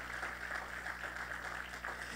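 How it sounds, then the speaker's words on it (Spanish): Congregation applauding in a church during a Spanish-language sermon, a steady wash of clapping from many hands held at an even level throughout, with no clear pauses. "Dele un aplauso de adoración al Señor por eso"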